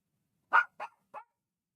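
A dog barks three times in quick succession indoors, with the first bark loudest and the next two slightly softer, each short and sharp, and no talk over them.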